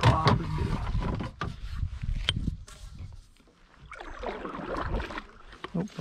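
Paddling a fishing kayak past a log, with paddle splashes, hull knocks and scraping bumps up close, mixed with brief low voices.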